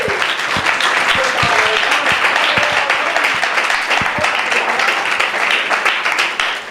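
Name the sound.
church congregation applauding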